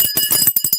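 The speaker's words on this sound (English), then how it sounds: "All the bells are ringing." Bells ringing in celebration of a winner on a morning show, a quick run of bright, rapid metallic rings, fairly loud and heard alone.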